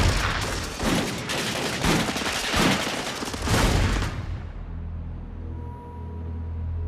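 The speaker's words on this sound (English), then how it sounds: "The state police have been alerted and open fire." Police opening fire with guns during an attempted seizure of power in Munich, dense bursts of rapid gunshots and volleys for about four seconds, then the shooting stops, leaving a low rumble and a faint hum.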